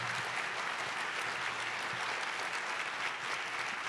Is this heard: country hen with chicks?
no